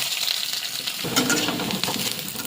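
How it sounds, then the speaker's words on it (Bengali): A medium-sized onion sizzles in hot oil in a kadai with garlic and dried red chillies, a loud, continuous crackling fry that thickens midway as stirring begins. "একটা মিডিয়াম সাইজের পেঁয়াজ আছে পেঁয়াজটাও ভেজে নেব"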